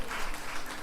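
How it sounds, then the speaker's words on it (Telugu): A church congregation at an Easter service clapping loudly together, a dense, even burst of many hands in a brief stretch with no talk over it. "గట్టిగా చప్పట్లు కొట్టండి"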